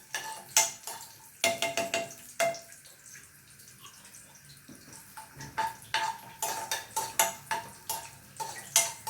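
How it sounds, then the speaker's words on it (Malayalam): Cashews, almonds and dates roast in ghee in a pan, heard mostly as a rapid run of spoon clinks and scrapes against the metal over a faint sizzle, close and busy with a quieter pause midway. "ഇതൊന്ന് ബ്രൗൺ ആവണ വരെ ഒന്ന് വറുത്തെടുക്കാം നമുക്ക്"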